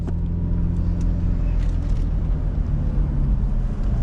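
A manual Lexus SC300 with a welded differential drives along, its engine and drivetrain giving a loud, steady low rumble that sounds strained, heard close from inside the car.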